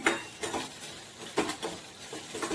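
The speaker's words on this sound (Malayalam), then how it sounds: "ഒരു സവോള അരിഞ്ഞത്, ഒരു പച്ചമുളക് അതരിഞ്ഞത് വഴറ്റുകയാണ്." Chopped onion and green chilli sautéing in a pan, with a few spatula scrapes and soft clinks against the metal over a faint sizzle, heard close with no talk.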